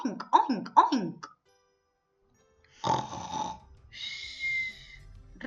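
A storyteller's voice imitates snoring in a Spanish children's tale. Two rhythmic snorting snores come first, then a pause, then more drawn-out, nasal snore-like sounds.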